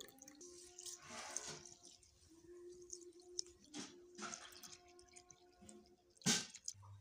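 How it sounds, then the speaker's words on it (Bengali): Moong dal being washed in water in a kitchen, with soft splashing, drips and squishy rinsing sounds repeating over several seconds, fairly quiet and close, ending in a brief louder splash. "ভালো করে জল দিয়ে ধুয়ে নেব ডালটা।"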